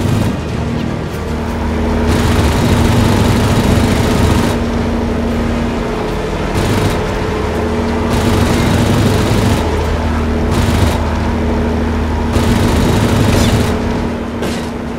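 A warplane engine in the World of Warplanes video game gives a loud, continuous, rumbling drone that swells and dips over fifteen seconds, with short, muffled bursts of combat noise mixed in.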